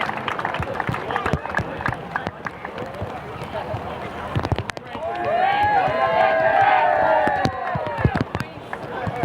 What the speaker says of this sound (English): Round of applause for Nathaniel May.